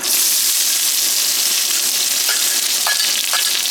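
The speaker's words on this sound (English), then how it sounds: "We're going to go ahead and we're going to saute these onions" Onions sautéing in olive oil on a grill at a campsite give off a steady, close, loud sizzle throughout, with a few faint clinks near the end.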